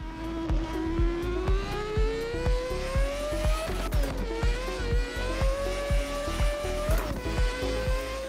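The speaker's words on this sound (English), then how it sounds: "we've got a Mazda RX-7 with 1100 horsepower" Mazda RX-7 tuned to 1100 horsepower in Assetto Corsa, driving on the Shutoko map with traffic: a loud, steady engine drone that climbs in pitch through long pulls, with brief dips at gear shifts and no talk.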